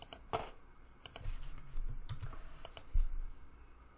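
Quick bursts of typing on a computer keyboard as a password is entered, irregular light clicks and taps, fairly faint and close, with no talking.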